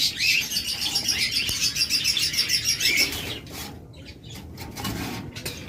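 Small caged parrots such as lovebirds and cockatiels chirp and tweet in a dense, continuous chorus with wing flapping, loudest in the first three seconds and then thinning to scattered calls.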